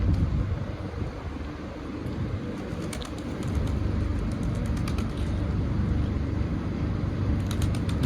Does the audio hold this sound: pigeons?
yes